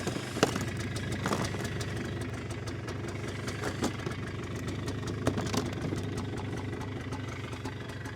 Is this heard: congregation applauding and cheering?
no